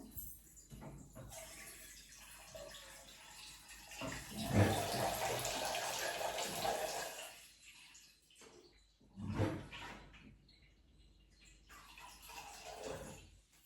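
Water is poured into a pressure-cooker pot of bottle gourd sambar, splashing and gushing in two bursts, a long central pour and a shorter one, fairly soft and without talking.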